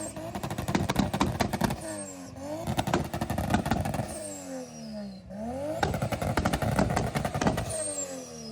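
Tuned car revving repeatedly with crackling exhaust pops and bangs, engine pitch rising and falling in several cycles, fairly close.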